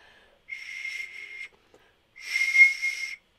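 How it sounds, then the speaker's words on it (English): Two breathy, whistling tones blown across three marker caps taped together as a homemade sikus panpipe, a one-second note followed by a louder, wavering one after a short pause. "You have to blow really hard across the cap."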